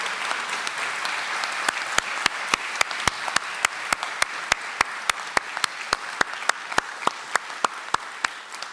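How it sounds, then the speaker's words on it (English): A room full of attendees at the 2015 SOCAN annual general meeting applauds steadily, with sharp, loud individual claps close by standing out in a regular rhythm over the dense wash of clapping. "let's give him a good round of applause"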